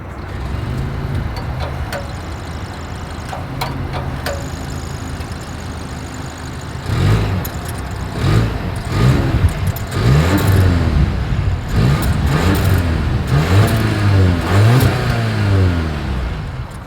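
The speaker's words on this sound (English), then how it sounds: "Here is that exhaust clip." Exhaust of a 2023 Volvo S60 idling steadily and fairly loud, then a series of sharp throttle blips rising and falling in quick succession, with no voices.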